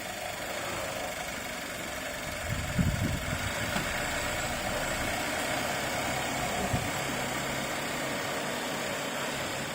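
Audi with a faulty mechatronic unit idles steadily in reverse, a low continuous engine hum with faint rattles and a couple of soft thumps, heard close with no talk over it.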